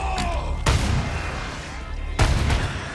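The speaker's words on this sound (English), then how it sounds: "Rocket launcher?" Two heavy blasts from a rocket launcher in the Resident Evil 4 Remake video game, each a sharp booming impact with a rumbling tail, spaced about one and a half seconds apart.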